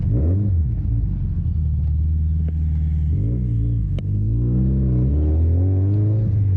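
A loud car exhaust with an equal-length header on a Subaru STI with a big turbo rumbles steadily with deep, throaty tones, rising and falling as the engine revs up and settles, close to the microphone.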